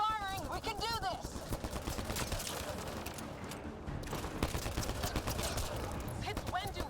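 Rapid gunfire in the sci-fi shooter Mass Effect Andromeda, continuous close bursts of automatic shots and clattering impacts throughout, with voices and speech mixed in.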